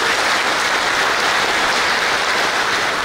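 Loud, sustained applause from a large crowd at a public gathering, dense and continuous throughout with no voices standing out.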